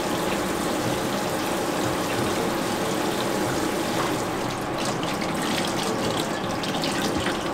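Tap water runs steadily into a sink at a host club while someone washes their hair, a loud continuous splashing and gushing stream that changes slightly as the flow is disturbed.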